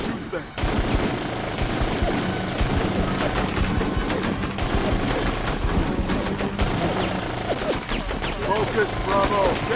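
Squad gunfire in Full Spectrum Warrior, sustained crackling bursts of rifle fire rattling continuously throughout, layered under shouted soldier voice lines and radio chatter.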